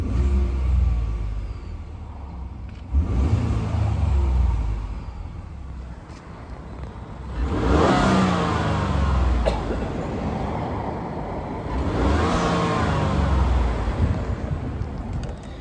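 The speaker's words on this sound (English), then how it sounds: "I'm gonna do a quick rev test first." A 2015 Ford F-150 EcoBoost pickup engine revs up twice, each surge roaring higher before dropping back to a rumbling idle, heard close by without speech.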